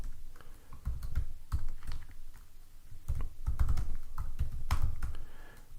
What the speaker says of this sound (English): I'll go back to the command line and type add all files